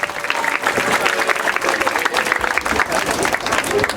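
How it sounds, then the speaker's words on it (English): An audience at a fall 2021 awards ceremony applauds, with dense sustained clapping from a crowd filling the room at a steady loud level throughout. "Let's give everybody a round of applause"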